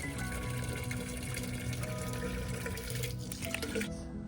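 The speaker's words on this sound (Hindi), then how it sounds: "पानी भर रही हूँ।" Water pours steadily from a water barrel into a container, a continuous close gurgling flow that cuts off near the end, with no talking.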